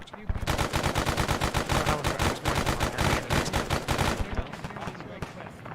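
Sustained suppressive machine gun fire in Arma 3. A rapid, steady stream of close, loud shots runs unbroken for about four seconds, then stops, leaving faint ambient noise.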